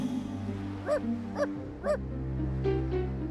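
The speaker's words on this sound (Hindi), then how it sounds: "वो शहजादे एडवर्ड के कुत्ते की तरफ जा पहुंची।" A prince's dog in an animated fairy tale gives three short, evenly spaced yipping barks, followed by a couple of fainter whimpers, over a steady low musical bed.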